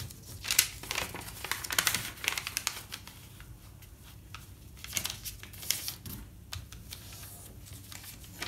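A sheet of paper is folded in half and creased for an origami crane, giving soft crinkles, brushing and sharp creasing scrapes at close range, irregular and fairly quiet, with no talk.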